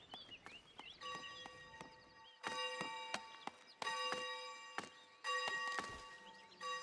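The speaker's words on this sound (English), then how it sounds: "Go ring the bell and everything." A church bell in the medieval city-building game Foundation rings in several resonant tolls, each struck clang ringing out and overlapping the next, with faint footstep-like thuds underneath.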